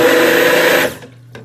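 A SUNAVO BL-11 200-watt hand immersion blender whirs loudly and steadily at medium speed, then cuts off abruptly partway through, leaving near silence with a faint clunk.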